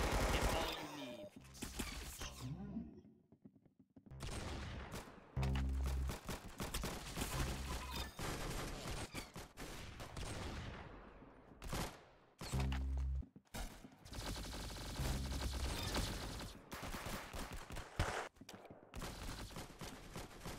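Loud, close gunfire from a shooting video game comes in dense bursts and rapid volleys, with brief silent gaps between the salvos.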